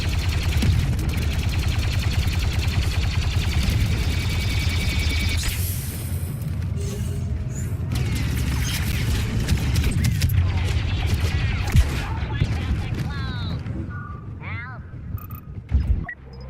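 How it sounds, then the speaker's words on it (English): Grenade blast and gunfire in the video game Star Wars Battlefront 2 during an assault on an MTT transport, a dense rumbling barrage with booms and bursts of shots under talk that fade toward the end. "Grenade out."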